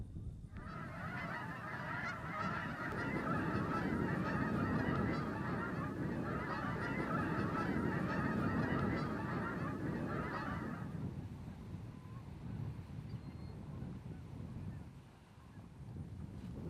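Canada geese at a national wildlife refuge honking in agitation while bald eagles hunt, a dense chorus of overlapping honks from a flock that carries on for about ten seconds and then fades into wind and open-air noise.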